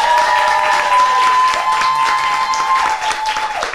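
Applause for a finalist on a Russian TV game show: a studio audience claps steadily and loudly, with a held tone ringing underneath.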